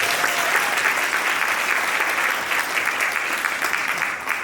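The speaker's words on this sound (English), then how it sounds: "Can we give Raven another round of applause, please?" Audience applause at a live talk or presentation, steady sustained clapping from a full room, loud and continuous throughout.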